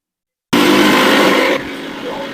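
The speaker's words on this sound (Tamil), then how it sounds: "கரிஞ்சீரகம் வெந்தயம் போட்டு அரைச்சிக்கலாம்." An electric mixer grinds black cumin and fenugreek seeds for a home decoction, starting abruptly with a loud, close whirring roar that drops to a steadier, lower hum after about a second.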